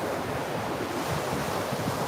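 Waves wash onto a sandy beach under gusty wind, a steady close roar of surf mixed with heavy wind buffeting on the microphone and no speech.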